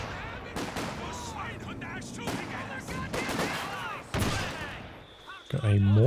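Mortar and gunfire in a Company of Heroes 2 2v2 tournament match: dense, continuous battle noise with repeated sharp reports and rumbling impacts, loud and close throughout, rising toward the end.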